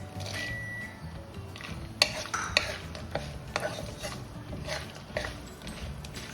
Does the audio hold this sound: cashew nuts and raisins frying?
yes